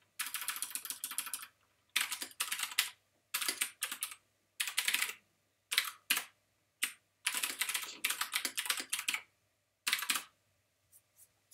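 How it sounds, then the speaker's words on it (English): Rapid clacking of a computer keyboard in bursts with short pauses between, close and clear, no voices. "Don't you love the sound of that keyboard?"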